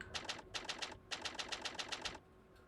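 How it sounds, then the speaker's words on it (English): Rapid typewriter-like clacking from the text display in the video game The Great Ace Attorney, coming in quick bursts of evenly spaced ticks separated by short pauses, clear and crisp with no talk over it. "This is just like the typewriter."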